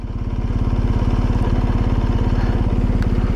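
A motorcycle rides along with a loud, close, steady engine thrum, an even pulsing beat with no pause and no talking.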